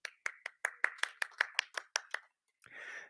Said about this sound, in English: Thank you for clapping for me with my prompting clap.